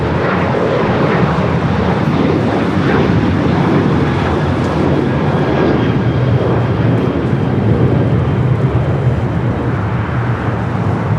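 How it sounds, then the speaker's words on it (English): A Lufthansa Boeing 747 on approach to Los Angeles airport passes with a loud, dense, continuous engine roar and rumble that stays strong throughout. "We do have the Lufthansa Queen approaching the 110 freeway."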